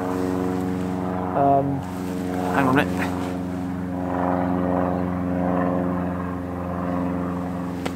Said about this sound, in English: Do apologise for the plane noise.